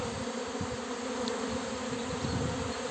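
A swarm of honey bees hums in a dense, continuous drone, with individual insects zipping close by now and then. No voices are heard over the buzz.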